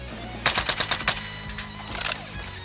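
Automatic gunfire in Call of Duty: Warzone: a rapid burst of about six loud, close shots, followed a moment later by a shorter, quieter volley that sounds farther off.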